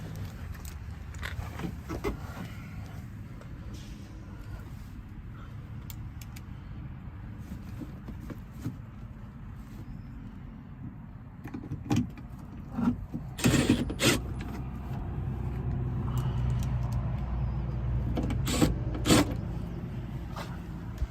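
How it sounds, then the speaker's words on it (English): A screw is driven to mount a speaker in the door of a 1992 Subaru Sambar, with creaky mechanical turning and rubbing, scattered clicks and knocks of handling, and the grinding growing louder toward the end. "now we'll screw the speaker in with the holes that we made"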